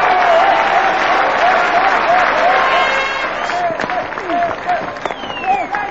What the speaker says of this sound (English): He gets the standing applause of his Australian teammates